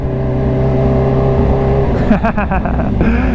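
Kawasaki Ninja H2 motorcycle engine at a Cars & Coffee meet in Anaheim, a steady loud close drone that jumps into several sharp throttle blips near the end.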